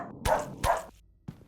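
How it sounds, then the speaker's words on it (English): Dog barks from the video game Silent Hill: The Escape, two sharp close barks in quick succession followed by a softer third yip, with nothing else audible. "you can attract enemies with your barks now"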